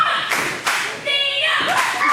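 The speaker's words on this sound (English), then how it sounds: "listen to the crowd here at the MPW. They're going for Nina." A wrestling crowd at an MPW Millennium Cup show claps and cheers for a wrestler, steady applause filling the arena with brief louder surges and faint overlapping voices.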